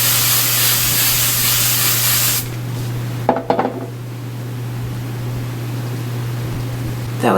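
A long continuous hiss of hairspray being sprayed on hair runs for a couple of seconds, stops, then a few light clicks and quiet rustling follow.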